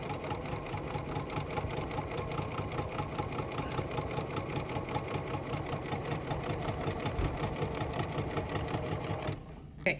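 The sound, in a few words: sewing machine slowly stitching a decorative stitch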